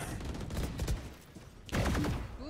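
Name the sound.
gunshot in the video game Valorant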